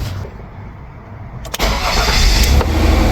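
A car engine cranks and catches about halfway through, then settles into a steady close idle after a quiet stretch of background noise at the start.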